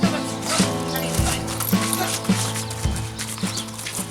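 A calm horse on a film set, with hooves clopping at a steady walking pace on a firm surface amid busy background ambience and a few low voices.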